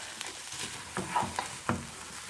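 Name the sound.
stirring rice in olive oil in a pan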